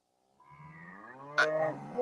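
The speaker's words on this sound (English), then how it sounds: "they were already mooing and carrying on and fussing at me." Cows on a farm in the morning mooing, a low drawn-out bellow followed by a second overlapping call, fairly close and clear in a quiet setting.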